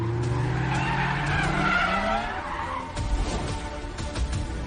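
Several cars pull up with their tires skidding and squealing, a long loud screech that sweeps in and fades, followed by rumbling and thuds as they come to a stop.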